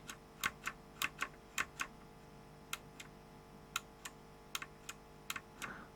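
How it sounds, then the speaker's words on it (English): Mechanical keyboard switches (linear, tactile and clicky with a click-modded spring) are pressed one at a time, giving sharp, quiet clicks in an uneven rhythm, some in quick pairs and others spaced apart, over a faint hum. "no tactile spring, tactile, and then clicky with the click modded spring"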